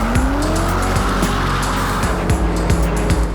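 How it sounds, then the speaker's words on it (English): A Ford GT supercar drives hard, its engine note rising and falling through gear changes with a tyre squeal near the start, loud and close throughout. "This is the new Ford GT"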